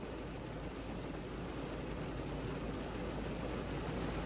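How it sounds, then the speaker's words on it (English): Heavy rain pounds a car, heard from inside the vehicle as a dense, steady, loud hiss and drumming that continues without a break. "It wasn't raining this hard when I got here."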